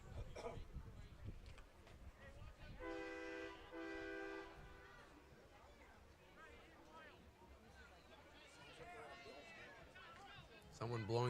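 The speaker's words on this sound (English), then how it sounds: "Someone blowing the train horn as they go by." A passing train's horn sounds in a long steady blast behind a football game broadcast, with commentators talking over much of it and crowd noise around.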